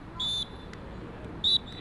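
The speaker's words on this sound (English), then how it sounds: "And there's the final whistle" Two short, shrill referee whistle blasts end a football match between Edmonton Rovers and FC Lokomotiv Thunder, the second coming about a second after the first, each clear and fairly loud over low crowd murmur.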